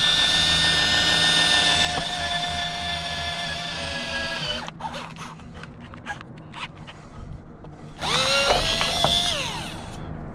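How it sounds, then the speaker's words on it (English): Power drill boring a pilot hole while mounting an LED rock light kit on a vehicle: a loud, steady whine, then a stretch of short bursts and clicks, then a second strong whirring run near the end. "We got to drill a hole right there."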